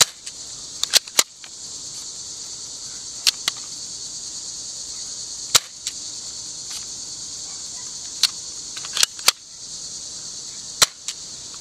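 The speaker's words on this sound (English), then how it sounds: "these Georgia insects really want to be composers for my channel music" Insects chirp outdoors in Georgia in a steady, high continuous drone, with several sharp clicks and snaps scattered through it.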